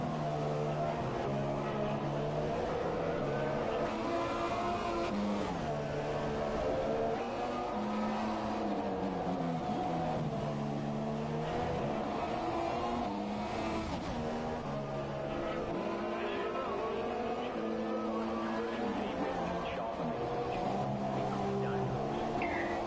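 Formula 1 racing game, riding onboard a Toro Rosso with purple tyres during Q1 practice: a loud, continuous engine whine repeatedly climbs through the gears, drops on downshifts and revs back up across many corners, with faint talk underneath at times.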